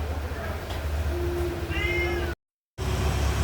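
A cat meows a few times at a pempek shop, short rising cries over a steady murmur of background room noise, with a brief gap of silence partway through.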